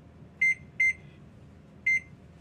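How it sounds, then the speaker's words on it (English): A kitchen timer being set gives three short electronic beeps, two quick ones followed by a third after a pause, clear against a quiet room. "So let me set this timer."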